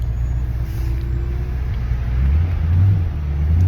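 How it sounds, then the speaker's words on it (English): A car transporter truck pulls up nearby with a deep diesel rumble that swells louder toward the end, heard from inside a passing vehicle with no talk. "got a transporter truck there pulling up"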